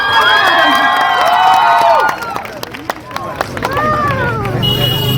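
Audience at a studio inauguration ceremony claps and cheers, a loud crowd burst of shouting and clapping with whistle-like cries, fading into scattered applause and hubbub.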